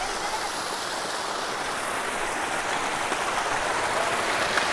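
Cold water rushes past a large rock in a quiet Bangalore forest, a loud, steady broadband wash of flowing stream water that stays constant and close with no voices.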